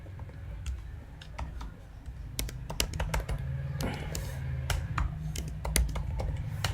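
Code is typed on a computer keyboard in a quick, irregular stream of close, crisp key clicks, sparse at first and then denser, over a low background hum, with no speech.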